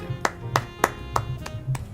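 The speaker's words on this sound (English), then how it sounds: "That is, I have to clap." Five or six evenly spaced hand claps ring out close by in a slow, steady rhythm, each a crisp smack over a quiet background.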